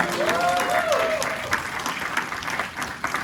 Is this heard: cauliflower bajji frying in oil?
no